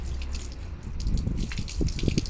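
Water is poured to rinse a child's hair during a bath, giving uneven splashing and dribbling that runs close and fairly loud in irregular bursts.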